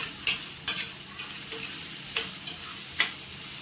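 Onions sautéing in a pan while a dried-fish curry is being cooked, with a steady soft sizzle broken by a few sharp scraping clicks of stirring at irregular intervals, close and alone without speech.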